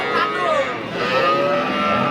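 A cow at a cattle market moos in drawn-out, wavering lowing calls, close and loud over a busy crowd murmur.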